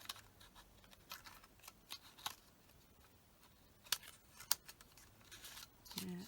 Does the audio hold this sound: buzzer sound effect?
no